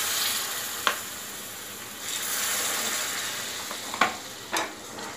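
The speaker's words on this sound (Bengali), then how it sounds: "আমি ফ্লাক্সে একটু গরম জল করে রেখেছিলাম, সেই জলটা আমি গরম জলটা দিচ্ছি।" Hot water poured from a flask into katla kalia, a Bengali catla fish curry, whose oil-separated masala is frying in a pan, sets off a steady, fairly loud sizzle with a few sharp clicks and spatters.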